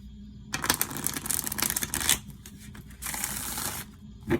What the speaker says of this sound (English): But look how these shuffle